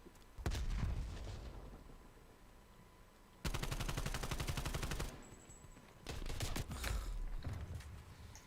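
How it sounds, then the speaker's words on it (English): Rapid automatic gunfire and bursts of shots ring out in a shooter video game, with a long sustained volley in the middle and scattered shots before and after, no talk. "The moment I shoot, I'm getting shot by 13 other people."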